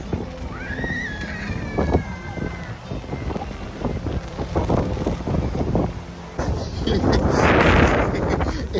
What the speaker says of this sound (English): It's a little windy and overcast.